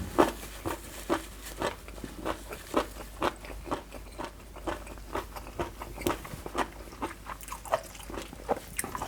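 Crunchy raw cuttlefish being chewed up close, a steady run of crisp, wet bites and crunches repeating roughly every half second with no talking.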